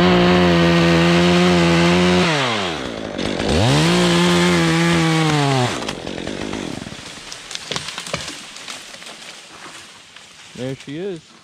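Chainsaw cutting off a branch high in a hickory tree, the engine revving hard and steady, then dipping and rising as the cut finishes, followed by idling and clattering wood with voices nearby.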